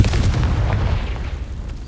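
In the video game Hogwarts Legacy, a Confringo spell sets off a deep booming explosion that fades into a rumbling decay, loud and close, with no talk.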